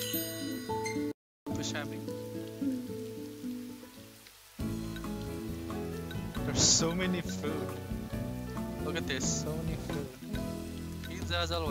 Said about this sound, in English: Camping sucks when it rains